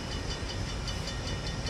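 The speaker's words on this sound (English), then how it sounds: "The train is coming." A train approaching at the Flemington depot, a steady loud rumbling hiss with faint rhythmic pulsing, close and continuous with no talk.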